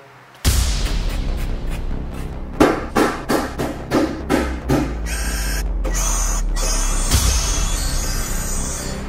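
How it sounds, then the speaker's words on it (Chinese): A hammer strikes a carbon nanotube heating coating during a damage test, giving a quick series of sharp, loud knocks over a constant background hum. "可以看得到有钉锤砸的，有刀子划伤的，也有钻孔钻的"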